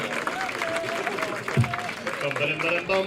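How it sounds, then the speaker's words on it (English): Audience at a crowded evening show applauding, a steady wash of clapping and crowd noise throughout, with voices and laughter mixed in. "Why don't you give yourselves a round of applause?"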